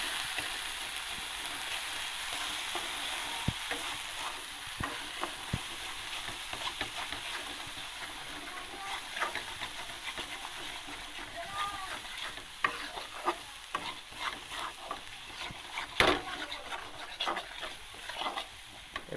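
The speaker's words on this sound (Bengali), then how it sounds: "জিরে গুঁড়ো ধনের গুঁড়ো লঙ্কার গুঁড়ো আর পরিমাণ মতো লবণ আর হলুদ দিয়ে এবারে ভালো করে এটাকে কষিয়ে নেবো" Ground cumin, coriander and chili with salt and turmeric stirred and frying in a pan, a soft continuous sizzle with light scraping and occasional clinks of the utensil.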